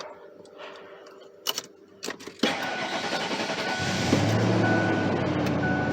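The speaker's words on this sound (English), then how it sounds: "we're about to start the engine." A 1998 Ford Expedition truck engine cranks after a few clicks and knocks, catches with a loud burst, then settles into a steady close idle that grows slightly rougher, with no talk.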